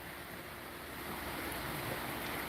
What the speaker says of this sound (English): Can y'all hear the water over there?